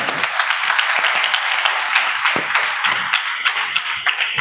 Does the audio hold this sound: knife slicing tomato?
no